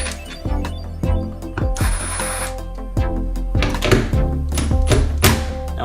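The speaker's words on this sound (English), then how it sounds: "we're going to take the 310mm bolts off of here so we can release the mirror" Bolts come off a mirror on a Duramax truck, with repeated sharp metallic clunks and ratcheting clatter over a steady, loud mechanical drone, the hits landing roughly every second.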